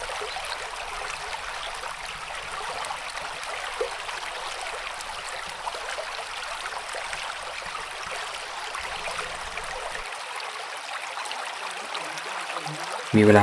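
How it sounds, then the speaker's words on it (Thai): Steady rush of a shallow limestone waterfall stream flowing over rocks in Kanchanaburi, Thailand, constant and moderately near, with no voices. "ลงเล่นน้ำได้นะครับ น้ำตื้นๆ น้ำใส ๆ เป็นน้ำตกหินปูนนะ"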